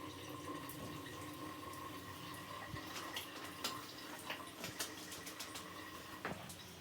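Water leaks from a bathroom sink in a quiet room, a faint steady trickle with scattered small drips and clicks over a low background hum.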